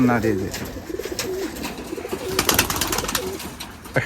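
Giribaj pigeons in a loft in Rajshahi, soft repeated cooing and bird calls close by, mixed with wing flutters and shuffling, with background chatter.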